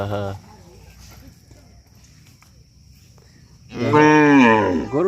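A newly calved cow on a family farm lets out a loud, close, drawn-out moo near the end, after a short voice at the start and quiet shuffling.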